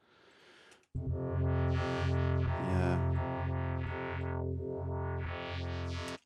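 A loud, buzzing distorted synth bass drones continuously while a filter sweeps its tone up and down; one brief spoken word sits near the start.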